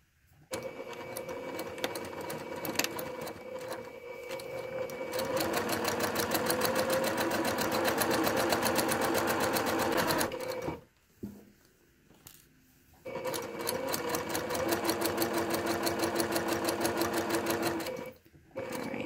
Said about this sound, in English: So I'm going to be using my sewing machine.